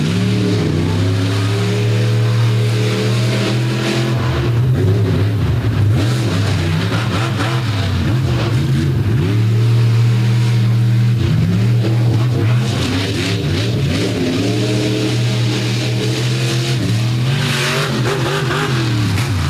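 A loud, throaty 1,600-horsepower 572 cubic inch Oldsmobile monster truck engine roars steadily, its pitch rising and falling through repeated revs and gear changes, close and continuous for the whole stretch.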